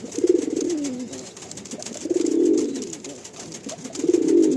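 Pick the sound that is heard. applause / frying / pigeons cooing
pigeons cooing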